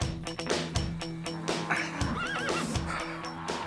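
Horses on a cattle station near Mt Isa neigh loudly and clearly, with a rising-and-falling whinny near the middle, amid hoof clip-clops and shuffling; no talking.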